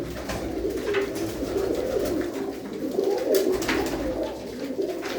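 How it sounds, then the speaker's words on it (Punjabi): Pigeons kept in a loft, cooing repeatedly in low, throaty, rolling calls heard close, with light rustling in the background. "ਇਹ ਬਾਈ ਹੁਣਾਂ ਦੇ ਕਬੂਤਰ ਪੱਠੇ ਪੱਠੀਆਂ"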